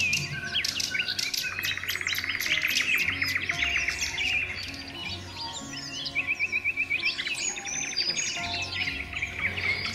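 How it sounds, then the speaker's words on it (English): Birds sing in a deep forest, a dense overlapping chorus of bright chirps, trills and rapid repeated notes, some near and some farther off, continuous for the whole stretch. "the beautiful birds whose songs were the very fabric of the forest"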